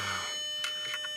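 A forgotten mobile phone rings in an abandoned building, its tonal electronic ring steady and fairly quiet, with a few brief chirps toward the end and no voices.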